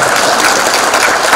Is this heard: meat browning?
no